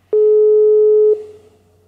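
A telephone line gives a single loud, steady busy-signal tone lasting about a second, then cuts off, leaving faint line hiss.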